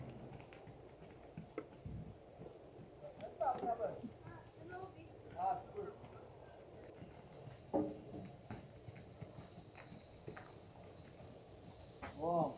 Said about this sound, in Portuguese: mini saltinhos com o trote pra passar por cima das varas